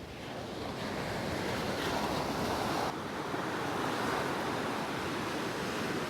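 Ocean surf at Miami Beach, a constant rushing roar of breaking waves with wind buffeting the microphone, steady and fairly loud with no voices.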